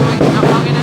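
A loud, steady engine drone with wind rumble, running continuously through the short moment.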